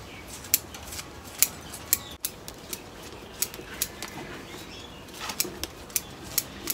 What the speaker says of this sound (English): I just come around and start to cut the periphery away.